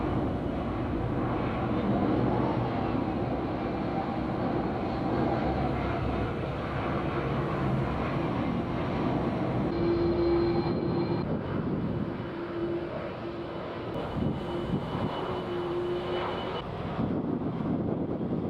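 Aircraft noise at Logan Airport in Boston during rush hour: a continuous broad roar of jet engines with wind buffeting, plus a few brief tonal whines partway through.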